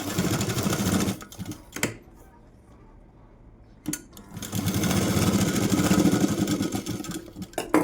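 Sewing machine joining cut strips of blouse cloth: loud whirring runs of stitching, broken by a quiet pause and a few clicks, then another long steady run close by.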